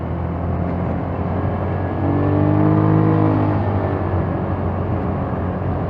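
A 150cc scooter engine drones steadily while riding, swelling louder as the throttle is opened mid-run and then easing back, under constant wind rush.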